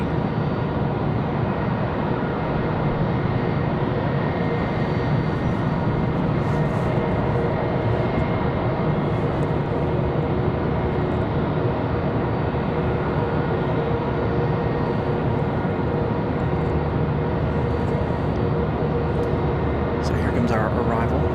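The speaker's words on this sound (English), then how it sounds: "Next arrival, American Airlines 2985. Coming in from Philadelphia, it's going to be an A319." American Airlines Airbus A319 arriving at Raleigh-Durham airport on a windy day, a continuous broad engine roar with heavy wind rumble, steady in level throughout.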